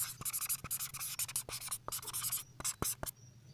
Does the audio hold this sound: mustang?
no